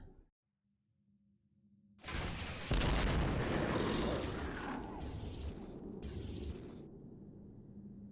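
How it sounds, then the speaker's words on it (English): A rocket launches and blows up in the X-Com Files game: after a faint hum, a loud sudden blast erupts and rumbles on for several seconds before trailing off. "To whom this rocket may concern, fire."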